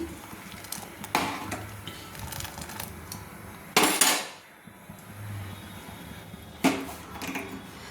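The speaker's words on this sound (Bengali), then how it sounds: "তো এরকম নাড়তে হবে যাতে নিচে না বসে যায়, সব সময় নাড়তে হবে।" Badshabhog rice boiling in a pot for payesh is stirred with a spoon, giving three sharp clanks and scrapes against the metal at intervals over a low bubbling background.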